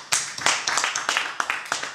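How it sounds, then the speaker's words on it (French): A conference audience clapping for a music producer, a short burst of uneven hand claps close by, with a voice briefly under it. "que je vous demande encore une fois d'applaudir s'il vous plaît"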